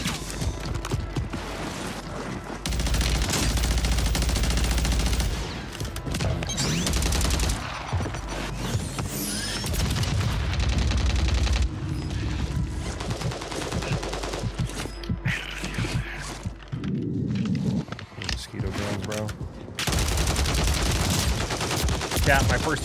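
A rail gun firing in a shooter video game, with repeated sharp, loud shots and bursts in clusters and short pauses in between, alongside other gunfire and movement sounds throughout.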